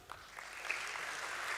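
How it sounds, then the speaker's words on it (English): An audience applauds at a stock exchange listing ceremony, a soft, distant, continuous patter of many hands clapping for under two seconds. "A huge and a big round of applause for him."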